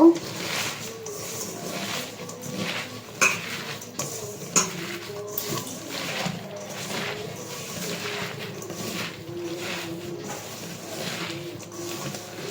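Chopped garlic, onion and green chili being mixed by hand into malabar spinach leaves for fritters in a metal bowl, with soft rustling, squelching and occasional clinks under intermittent talk.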